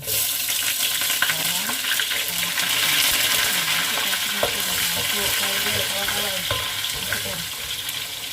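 Sliced onions sauté in hot oil for a prawn curry, a loud, close, continuous sizzle and crackle with scraping stirring strokes layered over it throughout.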